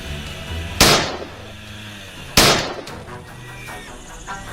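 Two sharp gunshots fired during a wild boar hunt, spaced about a second and a half apart, each a loud crack with a short decaying tail over quieter outdoor background.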